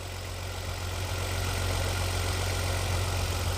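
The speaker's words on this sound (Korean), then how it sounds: "엔진 진동 좋고요. 소리 한번 더 들어보시고요." A 2009 Hyundai Genesis BH 380 luxury sedan with 180,000 km idles with a steady, low, even engine rumble, close and continuous, with no speech.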